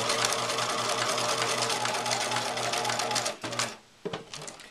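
A sewing machine stitches the hem of an apron, running in a fast, even close-up whir for over three seconds before slowing and stopping in short bursts.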